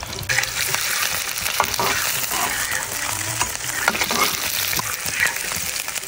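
Chopped onion and green chili are stirred in hot oil in a pan for a tomato dish, giving a continuous close sizzle broken by scraping, clicking strokes of the spoon.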